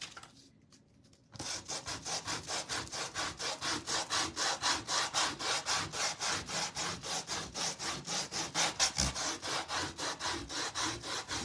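Fine-grit finger sander working a wooden piece, a steady run of rapid rhythmic rasping strokes that starts after a brief quieter moment and continues loud and close throughout.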